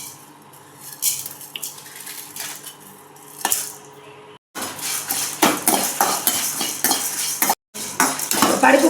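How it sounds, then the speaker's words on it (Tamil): Dry-roasting lentils with onion, garlic, curry leaves and drumstick in a pan for a home-cooked lunch: a metal spoon clinks and scrapes against the pan in bursts, with stirring and rattling, fairly close and without talk. "இப்போ நான் வறுக்க போகிறேன்."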